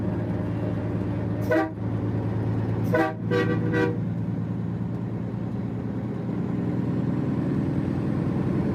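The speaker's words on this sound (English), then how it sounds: "I hear guys with big train horns are compensating." Truck air horns blasting in a trucking convoy: one short blast, then three quick honks in a row, loud over the steady rumble of engines on the road.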